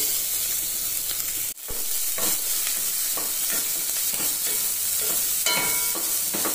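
Finely chopped medium onion hits hot oil already tempered with cumin and mustard seeds for atukula pulihora, a steady close sizzle with occasional stirring scrapes and a brief dip near the start.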